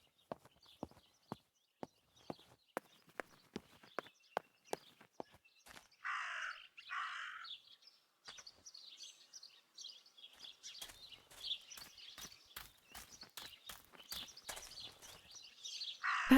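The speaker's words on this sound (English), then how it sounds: "That raven is making a big fuss." A raven caws in a quiet outdoor scene from the video game Martha Is Dead, harsh calls rising over sharp, evenly spaced clip-clop-like knocks, first sparse and then in a busier burst.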